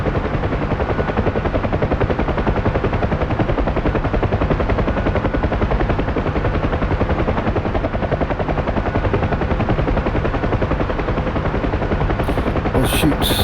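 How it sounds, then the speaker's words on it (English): A UH-1H Huey helicopter in the DCS flight simulator departs with a loud, steady rotor and turbine drone that holds constant throughout, thick low thumping blade beat under a broad engine roar. "looks like we got another Huey departing"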